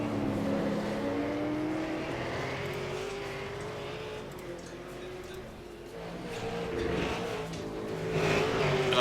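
Super Late Model race cars circling an oval track, engines droning and swelling at a middling distance, with tyre noise and a car surging louder near the end.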